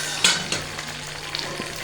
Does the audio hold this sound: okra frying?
yes